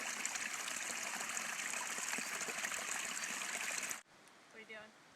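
A water stream at a campsite in Maine rushes and trickles in a steady, close, full sound that cuts off abruptly near the end, followed by a brief voice.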